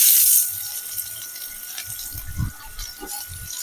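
Onions hit hot oil with popped cumin, cinnamon and chillies for a sandikeerai gravy, giving a loud burst of sizzle that settles into softer crackling with a few low knocks from the pan.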